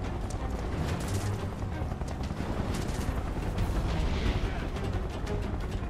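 Continuous gunfire in Final Fantasy 7 Remake, a dense rapid rattle of shots under a steady wash of battle noise, moderately loud throughout, with faint voices mixed in.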